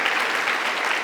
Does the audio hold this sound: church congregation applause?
yes